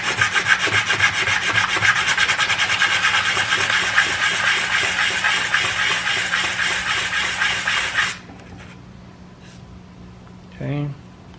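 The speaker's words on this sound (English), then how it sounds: "all I'm doing is just laying it flat and sanding that part off just a little bit" A Husqvarna 365 chainsaw seal part is rubbed flat on sandpaper in fast, steady back-and-forth strokes for about eight seconds, then the rasping stops and only faint rustling and a brief knock follow.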